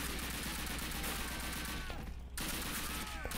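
Gunfire in the Call of Duty video game, a dense continuous crackle of shots running through most of the stretch with a brief dip in the middle, loud and busy with no clear talking.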